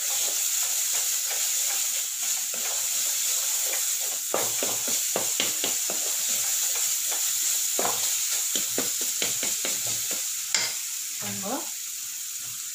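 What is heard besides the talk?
sautéing spices with chili and coriander powder in a pan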